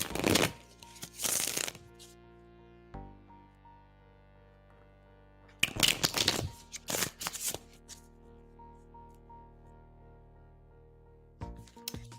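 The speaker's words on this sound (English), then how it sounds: "Amy, I am shuffling for you now." Tarot cards being shuffled by hand in loud, riffling bursts near the start and again around the middle, with a few quieter card taps and long stretches of soft room tone between.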